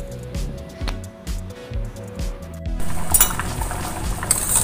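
A metal lid clinks onto a cooking pot of tofu and egg seaweed soup, a few close, sharp clanks followed by a steady hiss of simmering.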